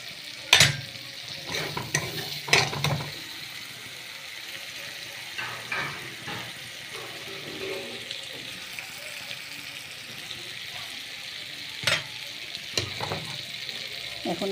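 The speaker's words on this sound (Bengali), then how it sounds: "এখন আলুগুলোকে ছেড়ে দেব।" Whole potatoes frying in a spice paste give a low, steady sizzle, with a few sharp clatters and scrapes of a spoon against the pan near the start and again later, and no talking.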